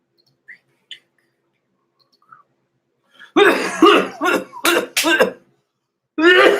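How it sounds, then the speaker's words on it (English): A person coughs several times in rough, loud bursts after a few quiet clicks, pausing, then coughing again. "Pardon my coughing"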